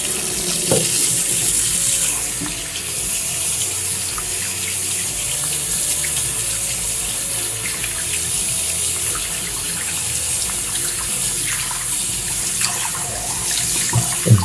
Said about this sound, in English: A bit of water on the side, on the back, on the camera module.